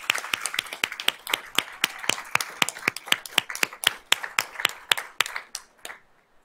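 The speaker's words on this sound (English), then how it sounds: "Let's give him a round of applause" A small group claps at a school board of trustees meeting, giving a steady run of crisp, evenly paced hand claps, fairly close and clear, that trails off after about six seconds.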